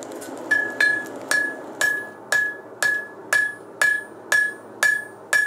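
A blacksmith's hammer strikes iron at a forge, about eleven sharp, evenly spaced blows, each leaving a bright metallic ring that fades before the next hit.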